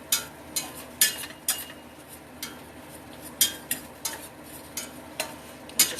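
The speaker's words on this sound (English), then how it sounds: "we're going to chop all this up" A spatula chops browned chili ground beef in a greasy pan, about a dozen sharp scraping clacks in an uneven rhythm over a low sizzle, close and fairly loud.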